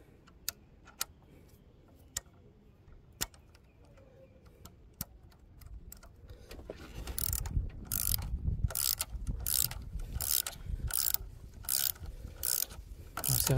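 A hand ratchet tightening injector bolts on a 1.6 HDI diesel engine: sparse sharp clicks at first, then a fast run of close, loud ratcheting clicks in bursts, with no talking.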